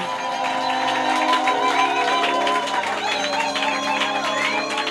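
A church congregation cheering and acclaiming, a continuous crowd roar of mixed shouting voices at an even, fairly loud level throughout.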